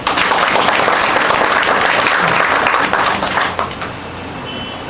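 A room of business training attendees applauds, dense clapping at full strength for several seconds before thinning out toward the end, no talking over it.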